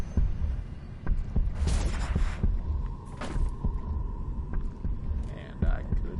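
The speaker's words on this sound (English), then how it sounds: "And I could just hear that heartbeat." A low, steady heartbeat pulse from the shooter Doom Eternal, throbbing under a droning hum, with brief noisy bursts of game effects layered over it.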